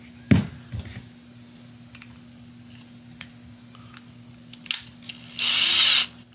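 An electric drill spins the valve of a seized Briggs & Stratton 190cc horizontal-shaft engine head for lapping, with a brief whir near the end after scattered clanks and taps of metal parts on a bench.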